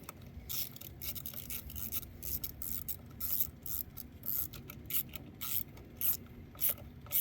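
A small ratchet clicks in short bursts while tightening the bolts on a high-pressure fuel pump for a VW 1.8T engine, a close, steady series of pawl clicks with brief pauses between strokes and no talk.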